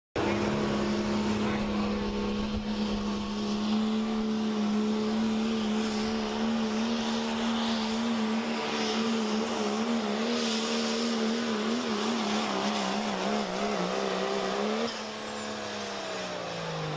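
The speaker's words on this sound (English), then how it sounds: "Obviously, they're diesel. I mean, you see them spooling up." Diesel dirt drag racing truck in the Offroad Outlaws game spooling up: a loud, steady engine whine that wavers and climbs, then drops away near the end, with no voices over it.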